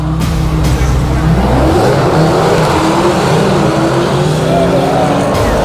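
NHRA drag race cars roar hard down the strip in a loud, steady, rising engine blast with crowd and track noise under it, fairly close, with a voice faintly audible.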